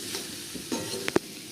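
Potatoes with turmeric and salt sautéing in oil in a pan for batatachi bhaji, a soft stir-scrape and faint sizzle with a couple of sharp spatula knocks near the end, close and brief, no talking.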